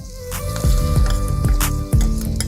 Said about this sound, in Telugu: తాలింపు తీసి పోసేద్దాం.